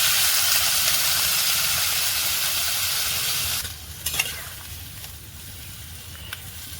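Loud steady hiss of taro and spices stir-frying in a pan with water added, the sizzle dropping sharply partway through to a quieter simmer with a few clinks.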